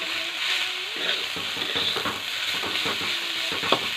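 Leafy greens frying in a pan while being stirred, a continuous hiss of sizzling with repeated scraping and tossing strokes at an irregular pace, close and moderately loud, no voices.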